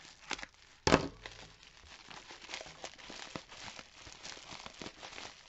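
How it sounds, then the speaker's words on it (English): Crinkly bubble wrap rustles and crackles up close as it is unwrapped, with a sharp loud pop near the start, then continuous handling and crumpling. "Let me get them both out of the bubble wrap"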